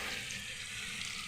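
Onions fry in oil for biryani, a dense continuous sizzle close by, steady and unbroken, no voices.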